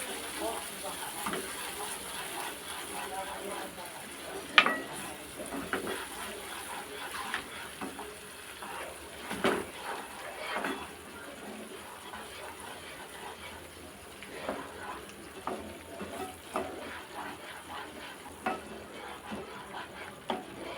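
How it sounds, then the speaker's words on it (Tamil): A spoon stirs chutney in a frying pan over a medium flame, giving soft, steady scraping and sizzling close by, with a few sharper clinks and no talk. "சட்னி சேர்த்து நல்லா கிண்டி விட்டுக்கலாம்"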